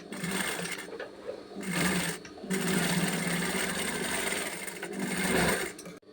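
Sewing machine stitching the two shoulder seams of a girl's dress, running in loud steady bursts with brief pauses between runs, close and without talk.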